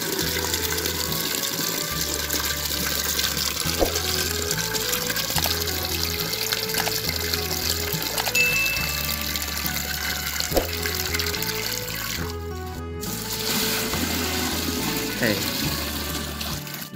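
Water pours steadily into a cattle feed mix of bran, rice bran and a little salt, a continuous watery splashing under a low motor-like drone, with a brief dropout near the end.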